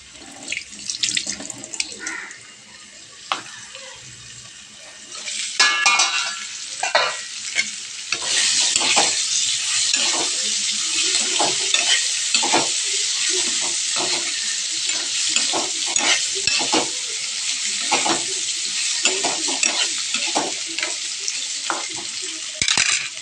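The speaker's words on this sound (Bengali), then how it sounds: "পনিরটা ফ্রাই হোক" Paneer frying in a covered pan gives a steady, dense sizzle with hissing that grows louder and fuller partway through, broken by scattered clicks and pops. The sound runs close and continuous, with no voices.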